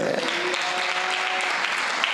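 Church congregation at a sermon clapping together, a dense burst of applause with a voice faintly over it, fairly loud and steady throughout.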